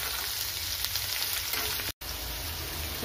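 Figs, potatoes and chickpeas fry in oil in a wok with a steady, close sizzle. One very brief dropout breaks the sound partway through, and no one speaks.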